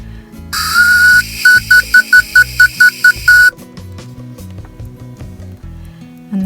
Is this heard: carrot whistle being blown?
yes